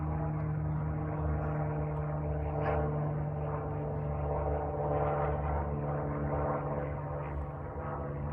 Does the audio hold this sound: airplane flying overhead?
yes